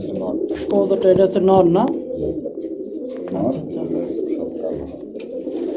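Kaldom Chaital pigeons coo with a few rolling, throaty calls close by, the clearest burst coming early and weaker coos following, with a voice talking over them.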